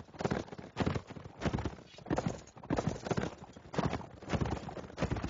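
Horses gallop in a video game battle, their rapid clip-clop hoofbeats pounding in repeated loud bursts, with neighing mixed into the charging rhythm and no talk over it.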